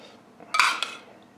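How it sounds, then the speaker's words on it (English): A spoon clinks against a dish while sticky glaze is spooned over Korean meatballs: a couple of close, sharp metallic taps with a short scrape, alone and fairly clear. "we're going to put this right over top, spoon it"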